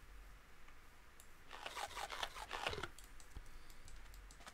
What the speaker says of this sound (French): J'ai entendu un bruit de clavier